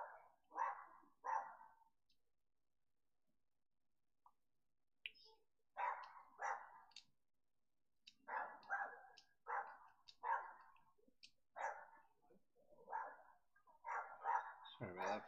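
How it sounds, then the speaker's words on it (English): An angry dog barking outside, bursts of two or three sharp barks separated by pauses and then a longer run of repeated barks, heard through a window at moderate loudness. "We've got a angry dog outside."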